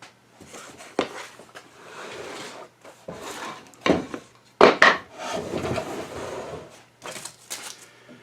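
Wooden cherry spice box pulled apart by hand: a series of dry wood rubs, creaks and knocks at close range, with a few sharper clunks in the middle.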